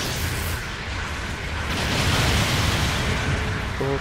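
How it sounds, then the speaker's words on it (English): An explosion in GBO2, a Gundam online shooter, heard as a loud, sustained broadband roar and rumble that swells slightly midway and stays dense for the whole four seconds with no talk over it. "Explosion"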